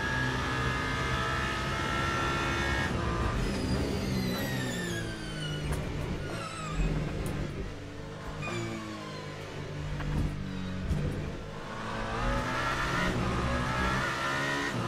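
A Toyota GR010 race car engine in the Le Mans Ultimate video game, loud and continuous, rising and falling through repeated upshifts and downshifts with whining pitch sweeps and brief tire noise.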